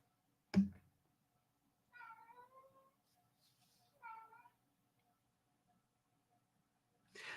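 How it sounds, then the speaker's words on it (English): Two house cats squabble indoors: a sharp thump, then two drawn-out, wavering meows a couple of seconds apart, faint and sparse against a quiet room, with a brief noise at the end. "Oh, the cats are trying to kill each other for fun."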